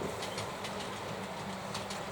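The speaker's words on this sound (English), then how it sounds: "Two trains on the same track, obeying the signals, not catching one another up." Two model trains run one behind the other on a single track. They make a steady, faint rumble with a soft, regular rhythmic clicking from the wheels, and no voices are heard.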